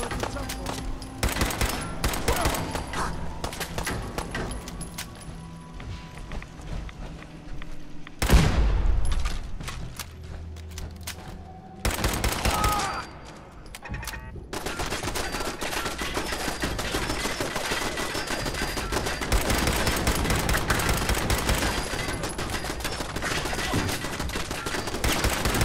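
Automated turrets fire in the video game Fallout 4, loud rapid bursts of gunfire that go on through most of the stretch, with brief lulls between volleys and a dense clatter of impacts.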